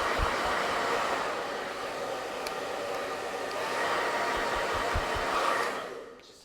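A hair dryer blows indoors, a steady close airy roar that runs for several seconds and then cuts off.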